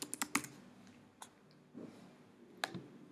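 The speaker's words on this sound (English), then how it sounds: "Type in the subject." Fingers type on a computer keyboard in a quick burst of clicks, then a few scattered single keystrokes, quiet and close, with no voices.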